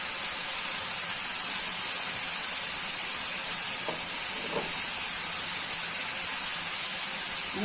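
Spice paste sizzles in hot oil in a pan while being fried for Bengali mustard hilsa, a steady, even hiss that continues unbroken at moderate volume, with a couple of faint clinks and no voices.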